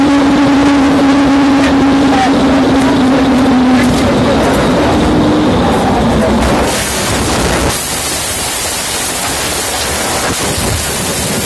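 A police squad car speeds along in a chase, its engine roaring loud and close with a rising whine over heavy rushing road and wind noise that continues throughout.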